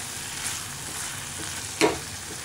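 Tomatoes frying and reducing in oil in a pan, a low continuous sizzle with one brief louder scrape or stir near the end.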